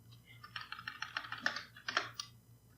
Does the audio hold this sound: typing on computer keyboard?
yes